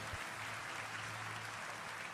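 A church congregation applauds during a worship service, a soft, even wash of clapping that continues steadily through a brief moment.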